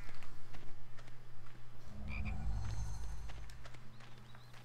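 A chocolate frog croaks in the Harry Potter and the Chamber of Secrets game in Petunia's garden, a brief low croaking burst in the middle over steady game background hum and faint footsteps.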